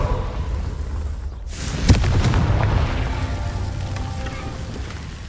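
Fireball blast of the Confringo spell in a video game: one sharp near burst near the two-second mark swelling into a sustained rumbling roar that slowly fades, over a steady low ambient hum.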